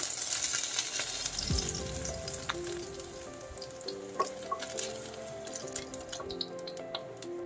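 Chicken breast frying and browning in a hot pan gives a steady, close sizzle with small crackles and pops scattered throughout.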